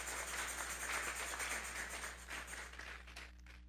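Congregation applauding inside a church, a steady wash of many hands clapping that fades slightly toward the end, with a low steady hum beneath.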